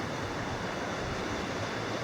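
A stream flows beside the Appalachian Trail crossing near a three-log bridge in Connecticut, giving a steady, close, broadband rush of water with no voices over it.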